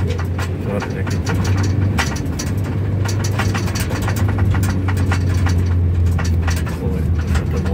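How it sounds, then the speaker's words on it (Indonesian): A motorcycle engine idles in a forest with a steady, loud, close low rumble that holds unbroken for the whole stretch, mixed with faint background noise. "Oh, ada motor di sini."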